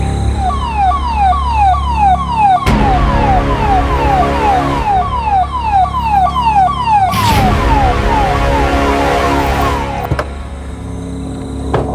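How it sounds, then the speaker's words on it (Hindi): Ambulance siren wails in a fast repeating sweep, loud and close, continuing over a steady vehicle rumble with a couple of brief bursts of noise, and no voices. "एम्बुलेंस"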